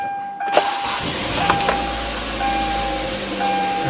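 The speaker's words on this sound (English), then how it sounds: "Car starts just fine." A car engine cranks and catches after a jump start, with a couple of sharp clicks followed by a steady running rumble and whir, close and fairly loud throughout.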